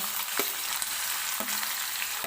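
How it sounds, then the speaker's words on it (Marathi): Finely chopped onion frying in hot oil in a kadhai, a steady close sizzle with a few soft scraping stirs, alone without voices. "तर मी तेल गरम करून घेतलेलं आहे. सुरुवातीला आपल्याला याच्यामध्ये टाकायचा आहे कांदा."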